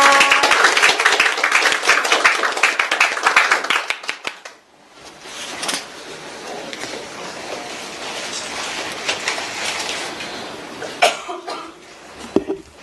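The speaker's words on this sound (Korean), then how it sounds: "참석자분들 박수 부탁드립니다" An audience claps at a ceremony for fund participants, with a dense burst of applause for about four seconds that then stops abruptly, leaving room noise, a few scattered claps and faint murmurs.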